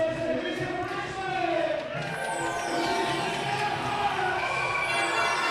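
A packed stadium crowd at an under-16 girls' volleyball cup final, Richmond against South Bucks, roars and cheers steadily throughout with a loud, sustained wash of voices, whistles and shouts, and an announcer's voice rising over it.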